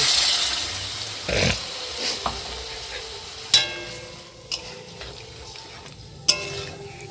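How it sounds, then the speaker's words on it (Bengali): Baby corn is stirred in a pan over a high flame, giving a soft steady sizzle with a few sharp scrapes and clinks of the utensil against the pan. "হাই ফ্লেমে অল্প একটু নাড়িয়ে চাড়িয়ে নিয়ে আমি জল দিয়ে দিব"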